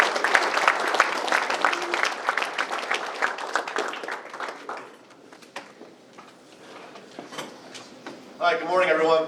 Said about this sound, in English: So let's give Dr. T a huge round of applause.